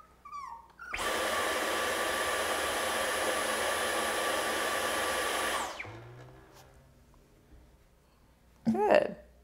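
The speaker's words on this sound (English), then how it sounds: "it's a vacuum." A vacuum cleaner roars steadily for about five seconds, then switches off and winds down, followed by a short burst of a voice near the end.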